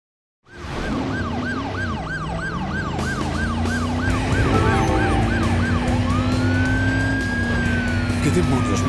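Ambulance siren in the Driver San Francisco video game, loud and close, with a rapid wailing yelp over car engine noise and then a slower rising wail, while voices talk.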